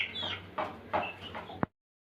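Hens and roosters give several short clucks and calls among pigeon stock in Bhawal Mirzapur, Gazipur. The calls are close, moderate in volume and spaced irregularly, ending in a sharp sudden noise before silence.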